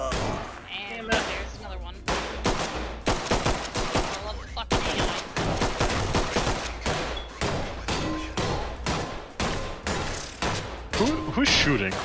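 Rapid bursts of gunfire in the tactical shooter Ready or Not, loud and close, with dense overlapping shots and volleys running almost continuously, while voices call out between and under the shooting.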